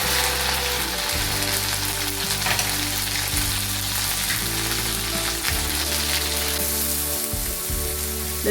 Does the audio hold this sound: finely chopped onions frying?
yes